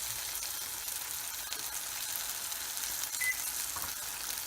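Turmeric and other ingredients sizzle in oil in a pan while ven pongal is cooked, a steady, even frying hiss that holds at close range with no voices.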